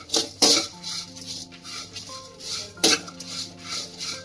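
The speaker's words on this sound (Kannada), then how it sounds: "1-2 ನಿಮಿಷ ಫ್ರೈ ಮಾಡಬೇಕು" Whole spices and pepper being fried for chicken ghee roast, the pan struck and scraped by a metal spoon in two sharp clanks over a soft ringing and low sizzle, close by with no talk.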